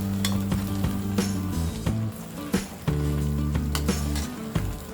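Paneer pieces frying in butter in a pan as a spoon stirs them, a loud close sizzle under repeated sharp scrapes and knocks against the pan, with no voices.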